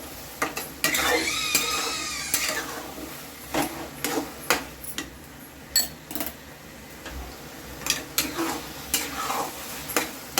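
A spoon stirs bottle gourd halwa cooking in ghee with dry fruits, giving irregular loud clinks and scrapes against the pan over a low, steady sizzle, close up and without talk.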